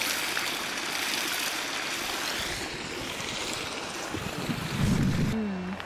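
Water from a hot spring in the Potts Hot Spring Basin running out into a stream, a broad continuous rushing wash heard outdoors with some wind, steady throughout, with a brief low voice near the end.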